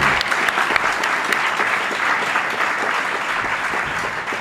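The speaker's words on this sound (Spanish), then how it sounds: "Bueno, pues un aplauso para María." Steady applause from a live audience at a talk-show recording in Bilbao, dense and sustained throughout with no voices breaking through.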